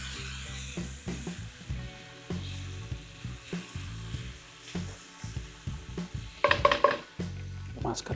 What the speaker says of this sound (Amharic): ባሮ ሽንኩርቱን እንደዚህ በሰል እናደርገዋለን።